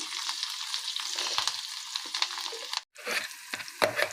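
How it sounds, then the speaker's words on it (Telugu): Curry leaves and a pinch of asafoetida fry in hot oil as a tempering for mango-ginger pickle, giving a steady, close crackling sizzle with a brief break near the end. "వేసి ఇప్పుడు ఇవన్నీ ఫ్రై చేసుకోవాలండి మనం."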